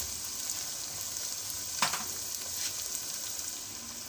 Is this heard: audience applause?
no